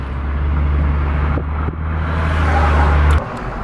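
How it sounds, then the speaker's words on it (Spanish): A car drives past close by on a street, a loud steady engine rumble that cuts off sharply near the end, with faint background sounds and no talking. "Mira ese carro."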